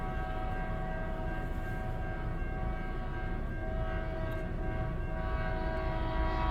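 CN freight train M343 at Ladysmith, Wisconsin, led by a rebuilt locomotive, passing with a loud continuous rumble and sustained steady horn tones, close and unbroken throughout.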